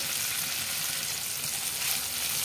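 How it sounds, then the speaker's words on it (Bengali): Spiced paneer frying in white oil in a hot wok gives a continuous, even hiss of sizzling at moderate level. "কড়াটা গরম হয়ে গেছে, দিয়ে দিলাম সাদা তেল। পনিরটা ভেজে নেব।"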